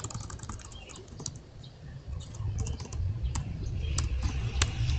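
Rapid typing on a computer keyboard while entering a network configuration command in a CCNA lab, a close, irregular run of clicks and key taps with no voices.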